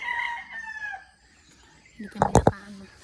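Farm chickens with a rooster: a drawn-out crow trails off, then a few sharp, loud clucks or squawks close by, with voices at the start.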